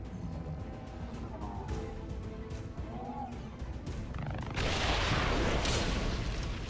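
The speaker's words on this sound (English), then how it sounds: "Big old explosion" An explosion goes off in the video game XCOM 2 Long War of the Chosen as an advent purifier is destroyed. A sudden loud, broad blast follows a stretch of rumbling game noise and sustains to the end.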